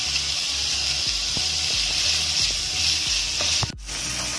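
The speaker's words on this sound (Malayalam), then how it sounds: "എടുത്തു വച്ചിരിക്കുന്ന ഉപ്പും ചേർത്ത് നമുക്കിത് സവാള ഇളക്കി കൊടുക്കാം" Onions with salt being stirred in a hot pan: steady close sizzling with soft rhythmic scraping strokes, ending in a brief clatter near the end.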